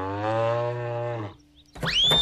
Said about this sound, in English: It sounded like a cow.